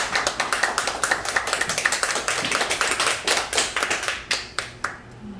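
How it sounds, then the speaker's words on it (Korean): Applause for a pastor after a lecture at a church cultural school, a room of hands clapping in quick, steady, slightly uneven rhythm that thins to a few scattered final claps. "귀한 말씀 주신 우리 목사님께 큰 박수 한번"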